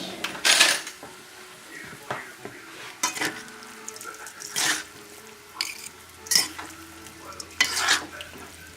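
Eggplant sandwich filling tossed with extra virgin olive oil in a pan, bursts of sizzling frying and metallic scraping and clanks of utensil against pan at irregular intervals, fairly close.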